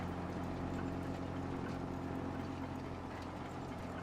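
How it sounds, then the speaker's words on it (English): A 600 horsepower turbo diesel farm engine in Farming Simulator 25 runs at a steady, dense drone, loud and unbroken for the whole stretch, with no voices over it. "Big old 600 horsepower fucking diesel engine in that big old turbo."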